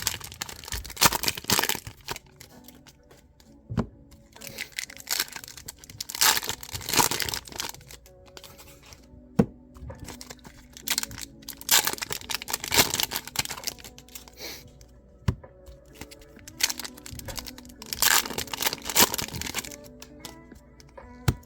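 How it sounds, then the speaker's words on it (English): Foil trading card packs from a 2022 Bowman NPB hobby box torn open by hand, close crinkling, crackling rips in repeated bursts with quieter pauses between, no talking. "These are high quality packs. As weird as that sounds, they rip really nicely."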